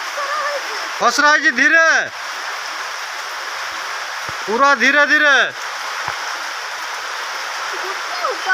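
Steady rain falls with a continuous hiss throughout, while two bursts of voices talk over it.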